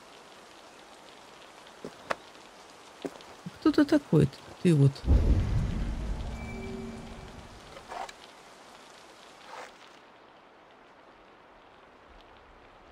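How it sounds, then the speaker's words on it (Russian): Rain falling in the video game Assassin's Creed Valhalla, a steady hiss running through the whole stretch, with a loud rumbling burst midway that swells and fades like thunder, and a brief spoken voice over it. "Дождь пошел, как назло, елки с палками."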